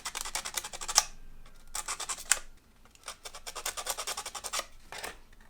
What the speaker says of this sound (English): So all you do is just sand those nodules down.